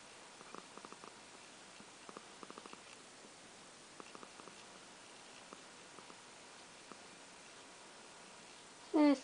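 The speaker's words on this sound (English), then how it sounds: "If she ever purrs even louder sometime" A soft, close purr rumbles in slow rhythmic pulses under quiet hiss, ending with a brief louder vocal sound.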